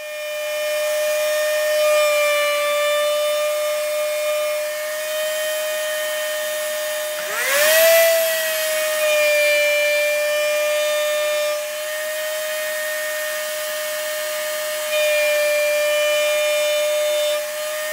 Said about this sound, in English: A chamfer bit is also used to ease the ends of the spreader.